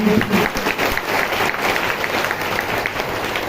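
A church congregation claps together in thanks to God during a Hindi sermon, a thick, continuous wash of many hands clapping at even volume throughout.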